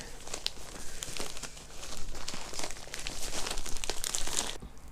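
Precut cotton fabric pieces rustle and crinkle inside a plastic bag as it is opened, giving a steady close crackling with sharper crinkles throughout and no talk.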